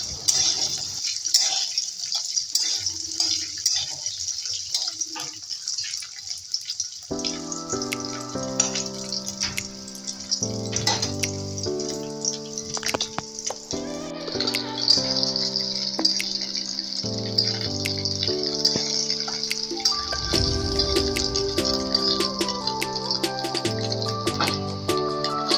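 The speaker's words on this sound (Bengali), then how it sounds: "এবার ভাজতে থাকতে হবে যতক্ষণ না হালকা হালকা লাল হচ্ছে।" Paneer and jackfruit fry in a kadai with a steady, soft hiss of sizzling oil that runs throughout under melodic background music.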